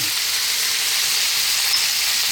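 Steady, close sizzle of fresh tomato dropped into a hot pan of potato pumpkin curry, a continuous bright hiss with no pauses and no talk.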